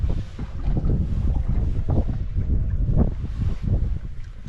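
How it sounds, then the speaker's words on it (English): Heavy wind buffets the microphone in rumbling gusts while fishing for blue catfish in cold water, with water lapping faintly beneath; no voices. "It's just really windy."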